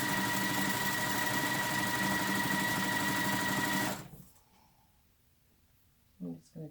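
A sewing machine runs steadily, stitching quilt block fabric pieces right sides together, with a fast rhythmic mechanical whir for about four seconds before it stops; a few quiet sounds follow.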